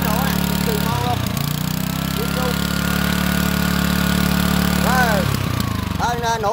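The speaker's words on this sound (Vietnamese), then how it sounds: "Đây, đây là con Rubin nha. Rubin E15 nè. Đó, máy nổ nè, cực kỳ ngon luôn." A Robin Rubin E15 small petrol engine driving a mini water pump runs loudly and steadily at close range, a constant buzzing drone, while someone talks over it in short bursts.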